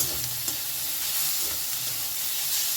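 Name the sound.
vegetables with tomato being stirred and fried in a pan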